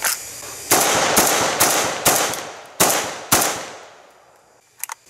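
Five loud gunshots from a Zastava ZPAP M70 AK rifle fed from a generic AKM magazine at a shooting range, spaced unevenly about half a second apart, each with a decaying echo, followed by faint clinks.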